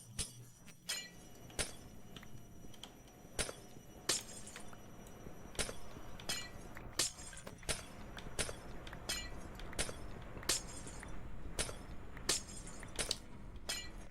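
Cables being broken in the modded Minecraft video game, each snapping with a sharp glassy shatter and clink, repeated in a fast irregular series of crisp, separate breaks across the stretch, fairly faint with no talk.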